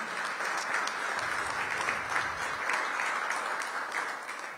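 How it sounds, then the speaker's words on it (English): An audience bursts into sustained, even applause at a DC mayoral signing event with government worker unions, a dense wash of many hands clapping for several seconds without any voice on top. "Give them a big round of applause."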